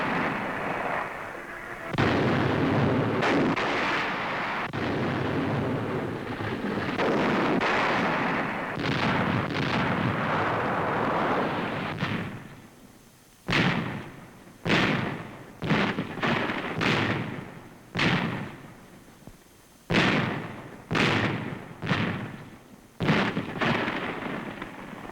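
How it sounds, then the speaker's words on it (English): Canadian artillery guns firing in a wartime newsreel, a dense roaring barrage that gives way to a series of loud, separate booms spaced a second or two apart. "Canadian artillery, now ordered overseas"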